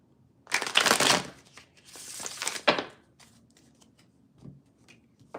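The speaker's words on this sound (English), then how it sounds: "All right, gotta go ahead and shuffle." Tarot cards are shuffled by hand in two brisk, close rustling bursts, followed by softer scattered handling noises.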